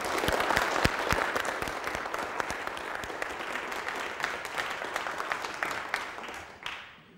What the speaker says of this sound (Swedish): Och nu tycker jag vi ger en avslutande gemensam applåd för dem alla fyra.